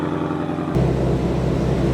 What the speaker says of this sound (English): just waiting for the chop idle down here